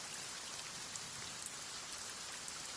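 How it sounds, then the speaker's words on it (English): Steady rain sound effect in a horror radio drama, a dense even hiss of falling drops hitting surfaces, continuous and moderately loud with no voices. "Can't see well through this rain."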